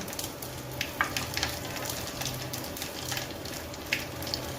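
Cumin seeds and green chillies frying in hot oil with spluttered mustard seeds for a tempering, a continuous close crackling sizzle with occasional sharper pops and stirring scrapes.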